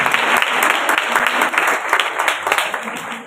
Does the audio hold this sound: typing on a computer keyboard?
no